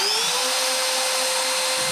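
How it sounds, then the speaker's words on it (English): A CNC machine cuts plywood with a loud, continuous high-pitched whine and roar of the spinning bit, steady and close up with no talk. "I cut all of them with the CNC"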